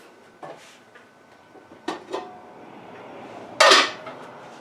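A metal canning rack clatters against a pot in a few sharp, separate metallic clanks, with a louder rattling bang near the end, close by and in an otherwise quiet kitchen with no voices.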